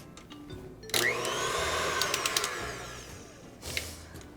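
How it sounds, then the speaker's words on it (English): An electric mixer whirs through vegan cookie dough, a loud, steady motor buzz close by that starts abruptly and runs for about two and a half seconds before cutting off, with no voices. "get your stand mixer or a bowl with a hand mixer"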